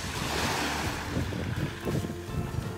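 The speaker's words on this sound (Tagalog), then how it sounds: "Kainis naman tong alon ito." Sea waves slapping and washing around a small fishing boat out mackerel fishing, a close, continuous rushing swell mixed with wind buffeting the microphone, with no voices.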